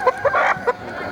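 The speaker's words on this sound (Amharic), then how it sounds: "ይሄ የወላይታ ዶሮ ነው።" Wolaita chicken clucking up close at a market, a few short clucks and one longer drawn-out call in quick succession, with faint background noise.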